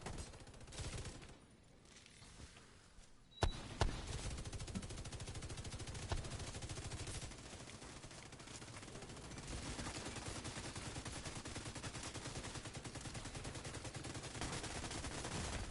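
Combat in The Division 2 shooter game, with dense gunfire that includes shotgun blasts. Sharp reports start after a quiet opening, then give way to sustained rapid firing.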